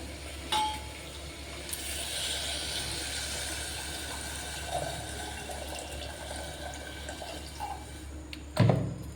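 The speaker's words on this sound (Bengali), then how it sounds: "এবার আমি জলটা দিয়ে দেবো" Water is poured into a pot of chicken soup, making a continuous rushing, splashing pour that runs for several seconds, with a few clanks at the start and end.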